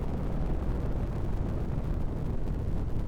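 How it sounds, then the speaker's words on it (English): Dense, continuous low rumbling blasts roll on without pause as explosions stop a train in the video game Xenogears, loud and close with no talk. "And then there's explosions and the train stops"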